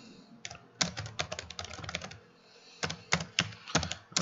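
Python code is typed on a computer keyboard in close, crisp bursts of clicking keys, with a short pause in the middle before a final flurry of keystrokes.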